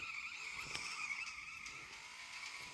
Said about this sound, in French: À la place, ça fait un drift extrêmement stylé.